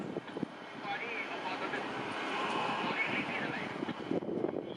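Strong wind buffets the microphone outdoors near a railway line, a continuous rough roar with gusty swells and a few sharp knocks.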